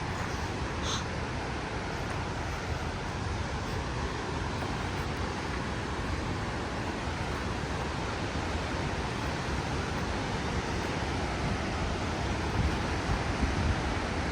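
Fast-moving river water rushes steadily at a spot where people stopped to fish, a dense, unbroken wash that stays close and even throughout with no talking.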